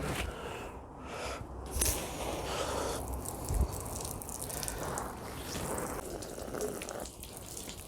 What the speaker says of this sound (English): what I'm going to do now is keep going with the hose pipe for another minute